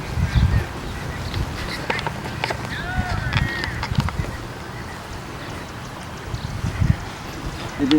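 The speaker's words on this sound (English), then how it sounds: "You can hear the birds" Birds and ducks outdoors near water on a green, tree-lined school campus, with scattered chirps and occasional quacks over a steady ambient wash and a few low thumps.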